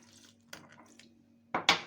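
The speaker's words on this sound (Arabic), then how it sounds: "وابتدي انزل بحبه ميه" Water poured into flour while making dough for a stuffed fateera pastry; after a quiet stretch with a low steady hum and faint clinks, two short splashing bursts arrive close together near the end.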